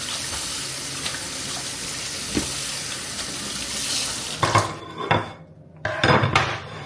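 Raw chicken is rinsed under a running kitchen tap, a steady close rush of water in a sink, followed by a few clattering knocks of dishes and splashes as the flow stops and restarts.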